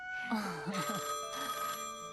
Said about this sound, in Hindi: ये लीजिए, साहब का फोन भी आ गया।